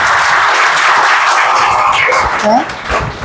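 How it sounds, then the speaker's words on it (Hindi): Students in a classroom clap and applaud, a broad steady wash of clapping that holds for a few seconds, with a few brief voices and whistles rising near the end. "आप सभी को एक बार जोरदार तालियां हो जाएं भाई।"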